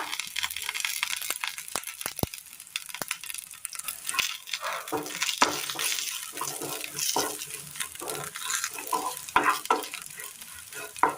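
Lentils and a sprig of curry leaves frying in hot oil in a pan for a Kerala chutney, with a continuous crackling sizzle and scattered sharp pops, close and fairly loud, interrupted by occasional stirring.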